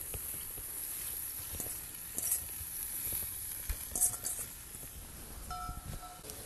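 Mushrooms and bean sprouts bubble in a pot for Sichuan boiled fish: a steady, close sizzling boil with light stirring and occasional clinks running throughout.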